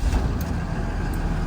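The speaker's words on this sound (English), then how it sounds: "let's hear this Cummins go" Cummins diesel engine in a 2012 Blue Bird Vision bus starting up and settling into a low, steady rumble, close and continuous with no speech.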